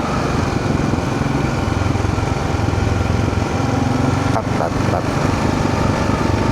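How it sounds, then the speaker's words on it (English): A 650 motorcycle engine with a bone stock exhaust roars on a road in Arkansas, a loud, steady drone that stays constant throughout, with brief dips near the end. "Hear the mighty 650 roar on the D-cell."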